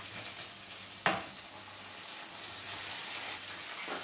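A lemon rice mixture boils in a pan with a steady, soft sizzling hiss. One sharp clink sounds near the start, and no one speaks.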